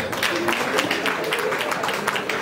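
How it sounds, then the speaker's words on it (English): Audience applause for a performer at a live comedy show in Abuja, a dense crowd clapping steadily for a couple of seconds with some voices mixed in. "please a round of applause for me Abel"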